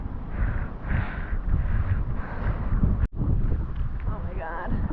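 Strong wind buffets the microphone at a surf beach, a continuous loud roar with gusty swells throughout and a brief dropout near the middle, while voices talk faintly under it.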